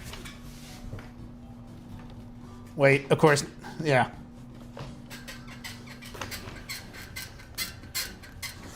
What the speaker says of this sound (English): My desk squeaks is so annoying.